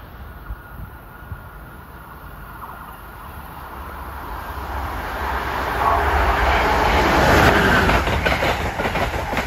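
A high-speed passenger train on the Northeast Corridor approaches and rushes past, a broad roar that builds steadily over several seconds with faint rail clatter and no voices.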